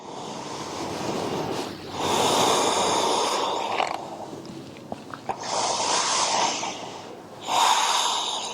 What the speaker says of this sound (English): Allowing your breathing to be effortless here.